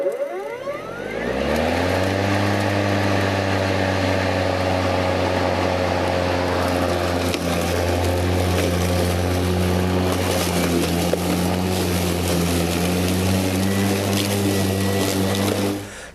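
EGO battery lawn mower with a twin-blade cutting deck, blades spinning in a steady, even whir that quickly spins up and holds at a constant pitch, close and continuous for the whole stretch.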